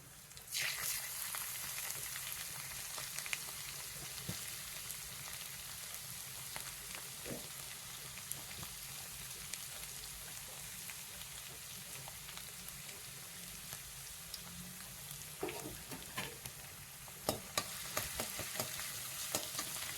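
Ginger and garlic frying in hot oil, a steady dense sizzle running throughout with occasional sharper crackles and stirring clicks, fairly close and even in level.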